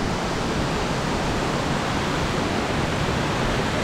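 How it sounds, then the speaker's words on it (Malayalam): Palchuram waterfall in Wayanad pours in a dense, constant broadband roar, loud and unbroken throughout, with no voices heard. "അപ്പം നമുക്ക് വെള്ളച്ചാട്ടത്തിനൊരു ഭാഗം കാണാൻ പറ്റും."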